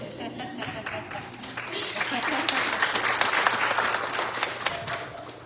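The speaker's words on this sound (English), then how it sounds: "they get to be applauded and congratulated" An audience applauds graduates of a cohort graduation ceremony, a dense wash of clapping that swells and holds loud, with some voices mixed in.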